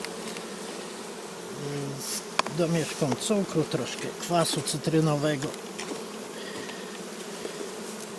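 Honeybees of an unusual breed buzz around an open hive in a buckwheat field, a steady broad hum running throughout while someone talks over it for much of the middle stretch.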